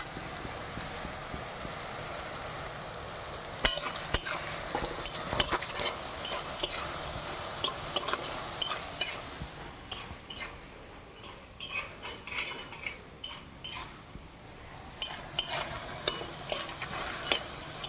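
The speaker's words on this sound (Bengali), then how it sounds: "সয়াবিন ভাজা হয়ে গেছে," Small pea-sized soybean chunks fry in a pan while a utensil stirs them, sending sharp metallic clinks and scrapes over a steady sizzle; no one speaks.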